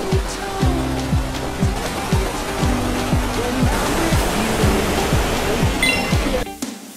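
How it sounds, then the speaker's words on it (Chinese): Lower tier of the waterfall at Neidong Forest Recreation Area in Wulai, a loud, steady broadband roar of falling water filling the whole stretch, with faint background tones and an abrupt cutoff at the end. "到达下层瀑布了。"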